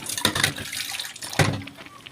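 Water is poured into a pot of chicken soup in a short, splashy burst of running liquid with a couple of sharper splashes, close and fairly loud.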